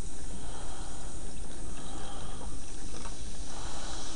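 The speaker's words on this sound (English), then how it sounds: "As I'm pouring it on, I don't know if you can quite see that" Liquid poured onto rusty brake calipers from a Raleigh Grifter bicycle keeps up a steady, close fizzing hiss on contact, a constant bubbling wash with no talking.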